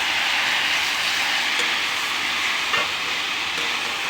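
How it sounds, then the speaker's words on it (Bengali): Jute leaves frying in a pan, stirred: a dense, loud, even sizzle that fills the whole stretch, with a few faint scrapes of the spatula near the start and middle. "এটাকে আমি ভালো করে নেড়ে নেবো।"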